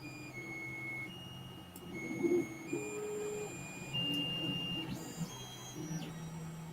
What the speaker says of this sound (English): 3D printer. But I guess this is only building one layer or two layer.